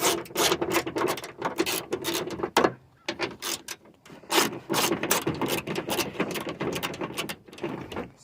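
A wrench removing window regulator bolts inside a 2003 Ford Expedition door, heard as a close, busy series of ratcheting clicks and metallic rattles with short pauses between turns.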